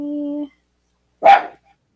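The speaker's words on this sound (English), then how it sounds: "Dog?" A dog gives a single sharp bark somewhere in the background of an indoor room, loud and clear, following a brief stretch of steady tonal sound and then silence.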